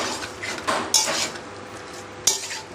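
A spatula stirs and scrapes chicken masala in a metal pot, a few sharp clanks and scrapes against the pot over a faint background sizzle, close by, no voices.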